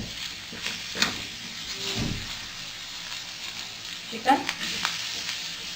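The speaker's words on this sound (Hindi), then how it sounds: "इसको हम सौते करेंगे। हमें हल्का सा इसे सौते करना है।" Carrot and chopped vegetables sautéing in a pan for egg and vegetable fried rice give a low, steady sizzle, with a few clinks and stirs, while a person talks over it.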